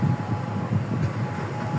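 Paryatak Express train at Cox's Bazar railway station, giving a steady low rumble with a faint rhythmic pulse, close and continuous with no voices.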